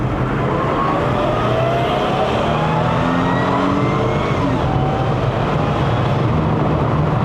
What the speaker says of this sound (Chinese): 它的机械增压根本就是覆盖了它那个 V6的声音调